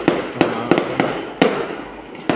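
Fireworks at a lighting ceremony in San Nicholas, Pangasinan, burst six times in quick succession, each sharp bang loud and echoing against the background noise.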